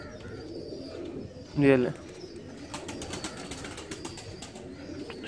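A pair of Cheena Qasori fancy pigeons gives one short, close cooing call partway through, over a quiet room hum, while someone speaks briefly nearby.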